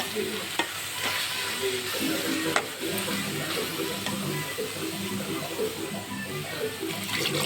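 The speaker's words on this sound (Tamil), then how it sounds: "கொஞ்சோண்டு தண்ணி போட்டு கலக்கிடுங்க." A spoon stirs prawn mango gravy in a pan after a splash of water, with sizzling and liquid sloshing plus repeated scraping strokes, close and fairly loud, no talk.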